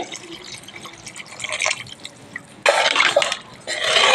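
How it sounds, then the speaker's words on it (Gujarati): Hot water poured into a pan of potato and spring onion curry, a splashing liquid gush that starts abruptly and runs in two loud bursts, with no talk over it. "થોડું ગરમ પાણી છે રેડવાનું છે આપણે"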